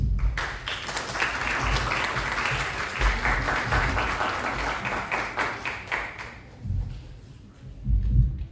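A strong round of applause from a forum audience greeting panelists, dense sustained clapping for about six seconds before it thins out and fades.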